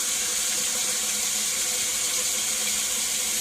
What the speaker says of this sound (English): you're going to thoroughly wet and wash your hands with a mild soap for about 1 full minute